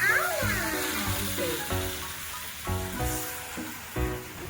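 Gongura leaves frying in oil in a home kitchen, a steady sizzle with faint hiss running under close voices and periodic stirring clatter.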